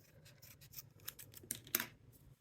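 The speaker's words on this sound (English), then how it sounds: "I'm just going to use these scissors I have here." Sharp scissors snipping to trim a yarn pom-pom, a few soft, quiet crisp cuts and scratchy clips spread irregularly, the last cut the loudest.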